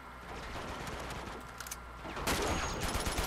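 Enemy gunfire in Uncharted 2 rattles in scattered bursts at a moderate distance, then grows louder and denser with sharp cracks near the end.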